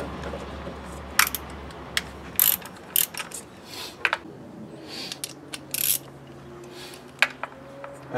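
A hand ratchet clicks in short bursts while working a deep well socket on the engine of a 2003 BMW 525i during a valve cover gasket job, with quick close ticking strokes separated by pauses over a quiet room.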